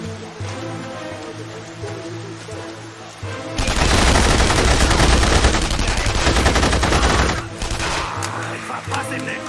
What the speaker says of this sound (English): Der Feind schießt auf uns!